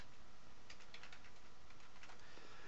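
Quick bursts of typing on a computer keyboard, a run of light close key clicks in irregular clusters, faint and with no voice over them.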